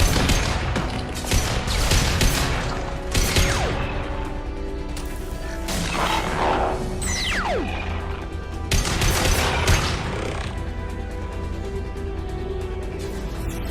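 Gunfire in Mass Effect 2, with repeated sharp shots and crashing impacts in uneven bursts over a busy battle din, plus a few whooshing sweeps, loud and close throughout.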